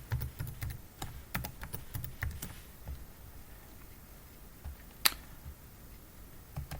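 A burst of rapid computer keyboard keystrokes as a passphrase is typed, close and fairly quiet, then a pause with a single sharp click and a few final taps.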